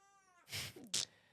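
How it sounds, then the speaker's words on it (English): A house cat gives two short, close meows, the second sharper and louder, after a faint tonal hum. The room is otherwise quiet. "There's the cat."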